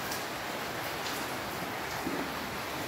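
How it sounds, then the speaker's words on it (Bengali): Steady rain patters on a roof through a grey, overcast day, a soft continuous hiss that holds evenly without pause. "ওই ছাদের উপর বৃষ্টি, এর উপরে বৃষ্টি পড়ছে"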